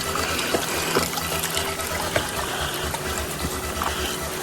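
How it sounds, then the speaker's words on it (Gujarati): Small mountain streams flow on a rocky trail up to Harihar Fort near Nashik, a steady close rush and gurgle of water with no talk. "હવે નાના નાના ઝરણા જોવા મળે છે."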